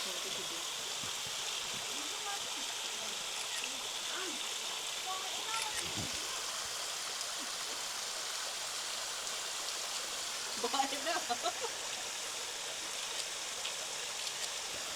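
Kritou Tera waterfall keeps up a steady, broad rush of falling water through the whole stretch, with faint voices and small knocks now and then over the constant roar.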